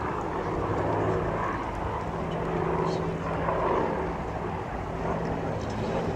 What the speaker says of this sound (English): this is a DC-6